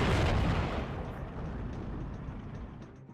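A T-34 tank fires in the video game Steel Division 2, a heavy booming blast that decays into a long rumbling tail, loud at first and fading out.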